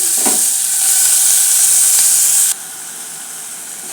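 Tomatoes frying in a pan with ginger garlic paste and onions for a radish curry, a loud, steady, close hiss of sizzling that drops sharply in level midway, with no talking.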